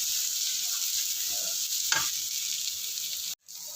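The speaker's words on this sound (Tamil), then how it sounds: "வெங்காயம் வதங்கட்டும்." Onions sautéing in a pan for a lunch box dish, a steady close sizzle and frying hiss with a stirring scrape near the middle, running alone without talk.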